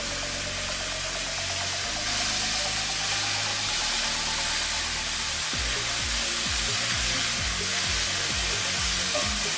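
Freshly sliced mushrooms sauté in olive oil with a steady, dense sizzle and crackle, punctuated by scraping stirs in the pan; no one speaks.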